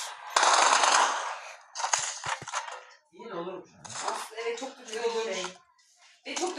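Rapid bursts of video game gunfire crackle loudly in quick volleys, mixed with metallic clatter, while players talk excitedly over the shooting.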